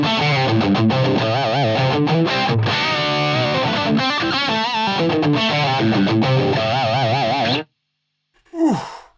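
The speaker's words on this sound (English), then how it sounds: "the Molecular really, really shines on the high input with this particular sound." Heavily distorted electric guitar through a Ceriatone Molecular amp on its high input, loud saturated riffing with sustained bent notes for several seconds, then a sudden stop and a short final squeal.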